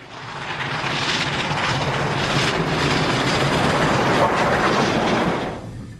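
A Union Pacific Big Boy steam locomotive thunders past on the Wyoming plain, a loud, sustained rumble and rush with faint rhythmic clatter of the train, holding steady before dropping away at the end.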